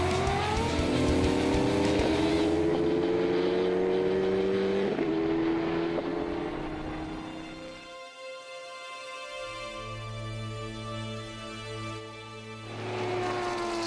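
Race cars at the 2012 Rolex 24 at Daytona night endurance race roar loudly past, engines rising and falling in pitch as one car passes, a brief lull, then more engines revving and downshifting.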